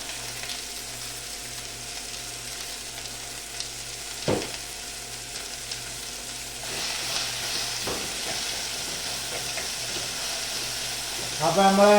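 Sliced onions for egg curry fry in a pan with a steady, moderate sizzle, a sharp clatter near the middle and a louder burst of sizzling at the end, while a person talks briefly.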